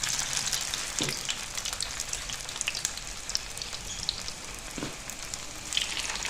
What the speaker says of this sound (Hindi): तो चलिए अब इनको फ्राई कर लेते हैं।